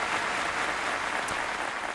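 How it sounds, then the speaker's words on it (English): Steady, dense applause from a sizable audience, an even wash of many hands clapping at once without pause. "So round of applause for Caroline Polachek"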